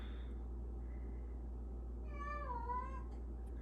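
A cat meows near the microphone, a rising then falling tonal call late in the clip, heard over a steady low indoor hum.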